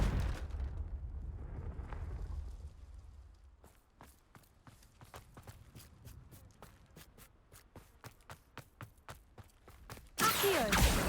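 A Confringo fire spell in Hogwarts Legacy goes off with a rumbling blast, followed by a rapid, sharp series of crackling bursts and then a final loud burst at the end.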